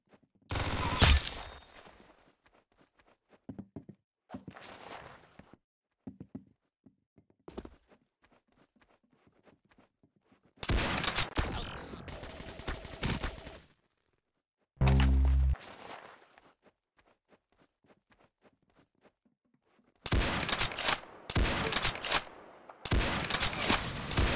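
Gunfire in the Roblox shooter game Arsenal, sharp rapid bursts of shots in several loud clusters separated by quieter stretches with scattered single pops and light footstep-like clicks.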